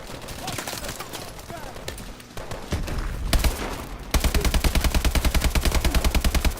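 Bursts of gunfire from Call of Duty: Advanced Warfare, starting with scattered shots and thuds, then becoming a loud, rapid machine-gun stream with evenly spaced rounds in the final seconds.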